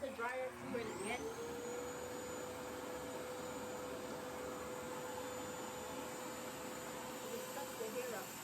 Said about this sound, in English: I'll just run the dryer through it again